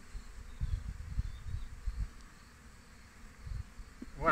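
Honeybees buzzing around a beehive entrance in a vegetable garden, a steady low droning hum close by with soft bursts of wingbeats and a brief sharper sound at the end.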